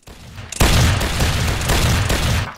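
Massed rifle volley fire in an online line-battle war game: a dense, loud burst of many overlapping shots erupts and rolls on continuously as a sustained crackling fusillade, with no talk over it.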